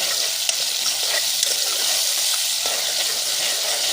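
Ginger-garlic paste frying in a pan for aloo pakora, a steady bright sizzle with occasional small pops and crackles, close and continuous with no talking.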